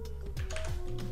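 Keys tapped on a Mac computer keyboard while entering a command in the terminal, a quick run of soft clicks over a steady background hum, with no voices.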